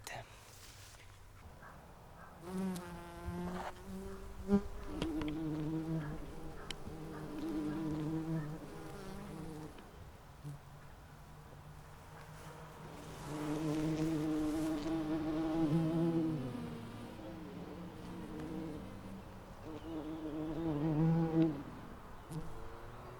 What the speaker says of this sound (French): J'aimerais essayer de trouver des petites abeilles, parce que leur son est très très beau.